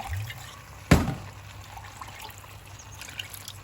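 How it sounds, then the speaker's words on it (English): Beef stock is poured into emptied tomato cans while cooking a beef stew, a single sharp splash and knock followed by a faint trickle and low background noise, with no talk. "Just pour a little bit in the cans."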